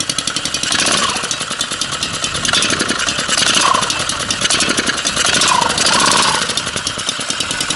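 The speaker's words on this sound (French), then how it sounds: "Le ralenti. Un poil bas. Il tourne pas mal, hein." A homemade mini bike's small engine idles steadily, running slightly low but smooth, with a continuous close, even putter and a few brief swells in level.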